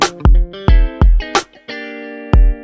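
Punchy instrument notes pass through a TCS-68 cassette tape echo with its ping pong feature on, so each loud, distorted hit trails off into repeated echoes. The hits come in an uneven rhythm, and one sustained note rings out between them.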